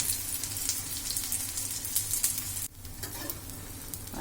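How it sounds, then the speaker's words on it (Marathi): Thalipeeth made with bottle gourd sizzles and fries in oil on a griddle, giving a steady close crackle with a brief dip partway through. "आता तेल टाकूया आणि चांगलं छान खमंग शेकून घेऊया थालीपीठाला"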